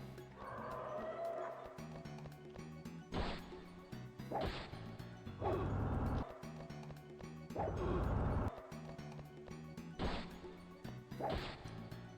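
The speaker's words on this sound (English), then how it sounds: "why does it sound like a dog every time I reload?" In the video game Brightis, a dog-like bark sounds on each weapon reload, cutting through the game's background music as several sharp, loud, separate bursts spaced a second or more apart.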